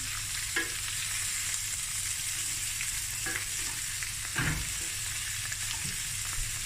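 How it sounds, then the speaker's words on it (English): Sausage fried rice with vegetables sizzles in a hot pan, a steady crackling fry broken by occasional scrapes and taps of a spatula as it is stirred; no talking. "Now we're going to stir fry everything."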